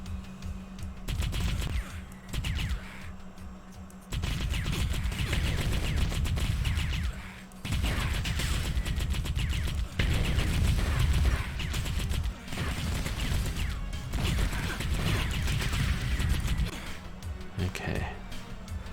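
Dense AK-47 gunfire from the Battlefield Hardline video game, bursts of rapid shots and crashes running loud and almost continuously for nearly twenty seconds, with someone talking over parts of it.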